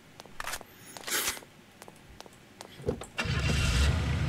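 An engine starts and runs in the zombie survival game Night of the Dead, with scattered clicks and bumps, then a loud, steady engine drone fills the last second.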